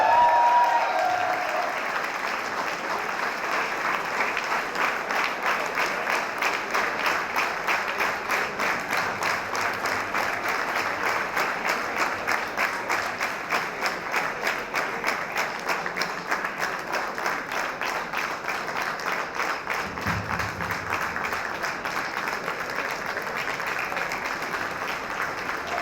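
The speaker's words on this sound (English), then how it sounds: "we're going to cheer him as he makes his way to the stage" A crowd at a 2019 Golden Years event applauds steadily as a man named Lakshman walks from the back of the hall to the stage, with dense, sustained clapping that holds at an even level throughout.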